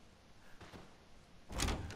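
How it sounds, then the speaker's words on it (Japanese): A door is opened in the Resident Evil 7 video game, a quiet rustle building to a louder sliding thud near the end, with no talk. "俺がドアを開けたー"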